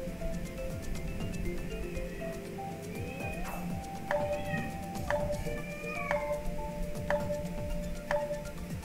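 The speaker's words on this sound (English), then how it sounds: "I'm hearing one of my cats." A house cat meows several times in short, rising calls, heard indoors over a busy bed of video game music and effects.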